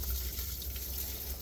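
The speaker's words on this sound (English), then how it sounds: "This is just mostly rusty water anyways." A steady, close gush of rusty coolant water pours out of a GM 1500 truck radiator, a continuous hissing splash with no breaks and no voices.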